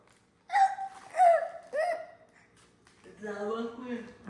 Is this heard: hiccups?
yes